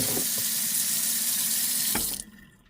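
Water from a kitchen sink tap runs in a steady, loud rush while food is washed and rinsed, then cuts off near the end, leaving a quieter drip and trickle.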